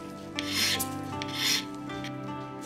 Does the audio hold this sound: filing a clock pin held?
yes